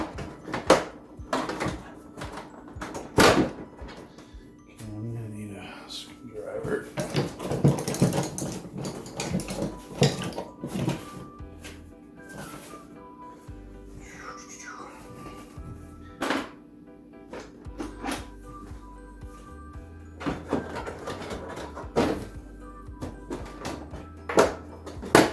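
Plastic clips on the housing of a Honeywell HPA300 air purifier being pried apart, with repeated snaps, creaks and knocking thumps of the stiff plastic, uneven and close, some sharp cracks standing out.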